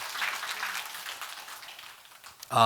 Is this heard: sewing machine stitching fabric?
no